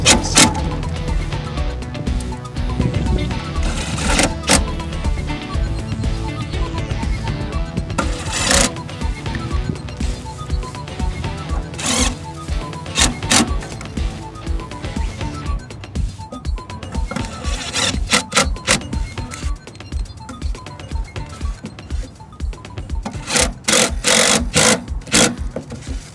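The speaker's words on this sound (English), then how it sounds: "I like to use the right angle attachment to get all the rest of the screws in place." Power drill with a right angle attachment driving screws while replacing a York furnace combustion blower, a steady mechanical whir with repeated bursts and clicks, close and loud throughout.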